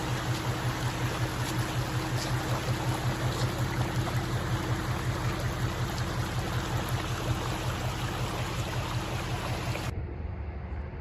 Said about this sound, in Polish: Bystry strumień płynie przez drogę.